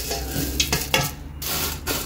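Fried onions being stirred into a hot, sizzling pan: steady close frying hiss with a few soft utensil scrapes, no voices.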